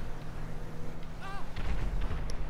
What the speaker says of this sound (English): You had an explosion, guys?